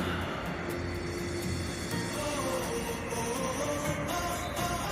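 Train at a station in Warsaw, Poland, a continuous rumble of rolling rail cars with faint high squeals and tones drifting through, moderately loud and without speech.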